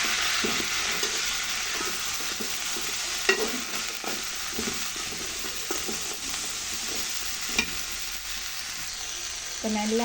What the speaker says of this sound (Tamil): இப்போ நல்லா எல்லாம் கிளறி விட்டாச்சுது.